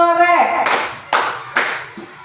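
An audience clapping hands at a school positive-culture dissemination session, rhythmic group claps in three bursts after a voice, loud and close in an indoor room.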